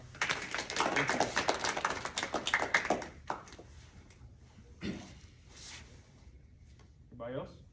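A small group at a community youth session clapping, a lively burst of overlapping claps for about three seconds that thins out, followed by quiet room noise and brief talking.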